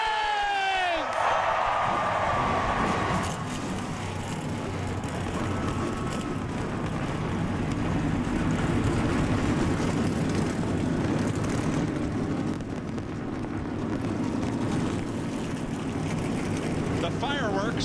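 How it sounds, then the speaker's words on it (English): A field of NASCAR Cup stock cars fires up at Charlotte for the 2008 All-Star Race, the engines swelling into a loud, sustained roar that fills the stretch with a crowd and an announcer's voice beneath. "Gentlemen, start your engines!"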